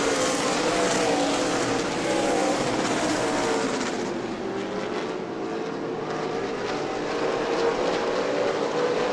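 Super late model race cars roar around the New Smyrna oval during a 100-lap Sunbelt Series race, a loud, continuous blend of engines that swells and shifts steadily as the field passes.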